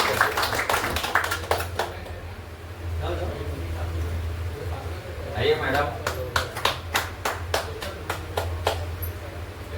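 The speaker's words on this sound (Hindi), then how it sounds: "जोरदार तालियों से उनका स्वागत करते हैं" Audience clapping at a business weekly meeting to welcome achievers, a short burst of hand claps at the start and a brisk run of distinct claps later, with people talking in between.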